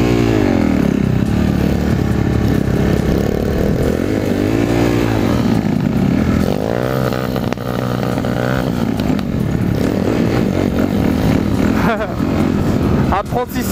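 A motorcycle engine runs steadily up close as a learner rider eases out the clutch, its loud drone rising and dipping in pitch, with people talking over it throughout.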